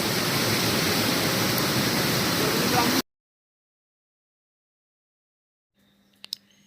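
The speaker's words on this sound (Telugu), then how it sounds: "ఈ వాటర్ అయితే చాలా ఫోర్స్గా వస్తుంది, వరద నీరు కదా, కొంచెం ఫాస్ట్గా వస్తుంది." Floodwater pours forcefully over the Kurapalli waterfalls near Vizianagaram in a loud, dense rush. It cuts off abruptly to near silence, followed by a faint knock near the end.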